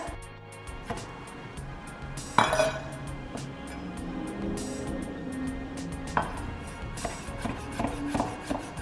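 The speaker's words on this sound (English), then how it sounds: "now we're gonna start chopping it up" Clinking, knocking kitchen sounds with a sharp impact partway through, followed by steady low clatter and scraping, like a knife working on a cutting board.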